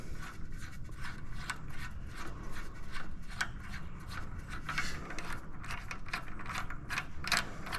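A large AN hose fitting being screwed down by hand, giving a steady run of close grinding, clicking thread and ratchet-like rubbing that goes on for several seconds without pause, with no voice.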